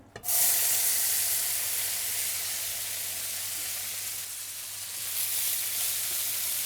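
Beans dropped into a hot pan for a carnitas taco meal, an instant loud hissing sizzle that settles into steady close frying, no voices.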